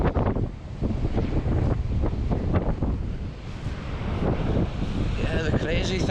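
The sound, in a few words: extreme wind at the North Sea coast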